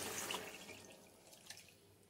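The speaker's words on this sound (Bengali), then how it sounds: "এবার আমি 1 বাটি পরিমাণ মতো জল আমি এতে অ্যাড করলাম" Water poured from a bowl into a pan of ghugni masala, a quick splash and rush at the start that fades into soft bubbling and faint drips.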